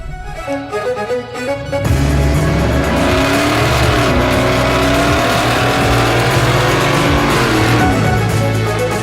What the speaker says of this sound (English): I really got to see if it'll still do a